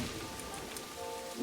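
Steady rain in a video-game desert, a dense even hiss of drops pattering on surfaces with no pauses, close and continuous, with a few brighter splashes standing out.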